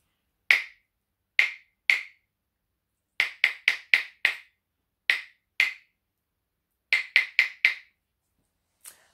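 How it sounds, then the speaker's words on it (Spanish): Body percussion for a primary music class: sharp, close claps and slaps in short rhythmic groups of two to four, separated by silent pauses, with one soft final hit. "con percusión corporal, que son palmas, rodillas, patada"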